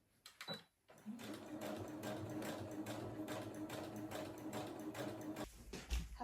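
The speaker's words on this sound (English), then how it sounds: "I'm just going to quickly put these through the sewing machine" A sewing machine runs steadily at close range, stitching a bridesmaid dress, its rapid mechanical stitching rattle continuous for several seconds after a brief start.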